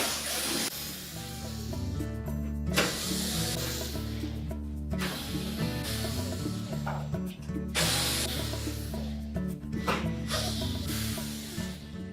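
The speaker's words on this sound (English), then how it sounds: "Now with access to the back of the range, we're next going to remove this panel. So simply take the screws out." Screws come out of the back panel of a Whirlpool range in short bursts of ratcheting and driver whirring. The bursts repeat several times over a steady, close background hum, with no talking.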